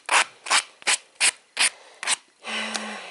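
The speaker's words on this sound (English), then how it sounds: "I'm just going to go over with the sanding block with you guys." Six rhythmic rasping strokes of a sanding block scrub across hard acrylic, each short and even, followed by one longer, smoother rub.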